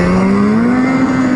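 A 2018 Ski-Doo XRS 850 Rev Gen4 snowmobile passing close by, its loud high-revving engine whine holding a steady rising pitch throughout.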